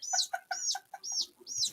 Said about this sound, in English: that duck is getting frisky.